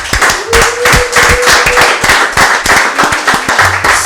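Live event audience clapping and applauding continuously, a dense steady wash of many hands, loud and close, with a brief tonal sound partway through.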